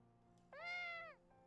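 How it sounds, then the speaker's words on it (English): A single cat meow from a video game, short and clear, rising and then falling over about half a second against a quiet background. "that is the fakest meow I've ever heard"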